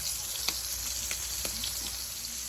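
Bratwurst and kielbasa sausages sizzle and crackle in a little hot oil, a steady frying hiss with occasional sharp pops, close by and quiet.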